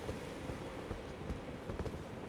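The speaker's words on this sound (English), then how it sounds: "sounds like the dude on the horse is kind of headed my way." Horse hooves in Elden Ring, a steady muffled clip-clop drawing nearer beneath a windy, rain-like ambient wash.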